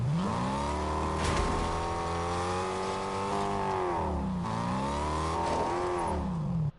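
A car engine revs in the video game Fortnite, a steady droning motor rising and falling in pitch through two long accelerations, loud and close with no voices.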